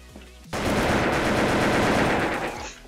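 Rapid automatic gunfire from a weapon in a video game, a dense loud burst that starts abruptly after a short quiet moment and rattles on steadily for about two seconds before cutting off.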